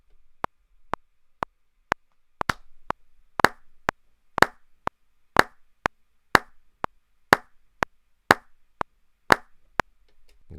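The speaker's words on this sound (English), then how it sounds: "So now I can actually record those claps as MIDI." Sharp hand claps sampled and played back as MIDI in Logic Pro X, crisp isolated hits in a steady even rhythm, some louder with short ringing tails, about two per second, alone without talk.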